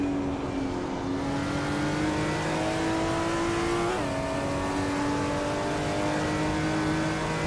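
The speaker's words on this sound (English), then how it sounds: "Vicky is kicking things off in the GTE class on pole position, steering a 2018 Toyota FT1 GTE." Race cars, led by a 2018 Toyota FT1 GTE on pole in the GTE class, accelerate off the start in a racing video game, engines rising in pitch with a gear shift midway, loud and continuous.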